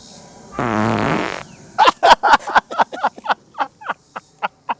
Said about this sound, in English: Serious moments ruined by farts.